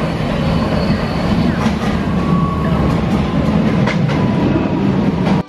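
A train rolls steadily along a rail line in Taiwan, heading toward Taipei, with a constant loud low rumble and faint clicking of wheels on track joints throughout, no talking.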